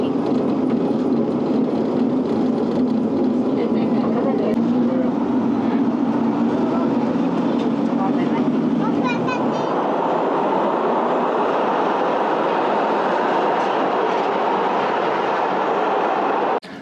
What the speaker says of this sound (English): And this is our train